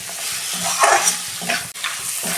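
A fish head sautéed with spices in a pan, a close sizzle broken by repeated scraping stirs of a spatula, with one brief sharp knock near the end.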